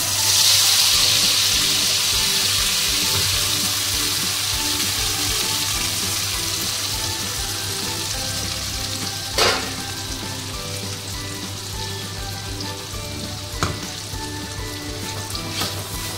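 Spiced paste for a paneer malai curry fries in a pan with whole cinnamon, cardamom and cloves, giving a steady close sizzle throughout, with a couple of brief stirring clatters near the end.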